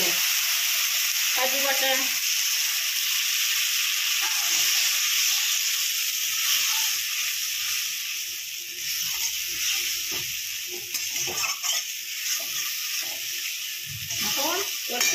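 Prawn kofta curry masala with cashew paste sizzles and fries in a pan, a continuous hiss with intermittent stirring scrapes, while someone speaks briefly over it.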